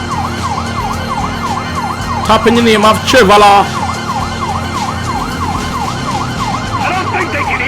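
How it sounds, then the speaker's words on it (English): Police sirens wail continuously in a rising and falling cycle in Grand Theft Auto V, loud and steady, while a person speaks excitedly over them for a moment. "I don't think they can hear the sirens."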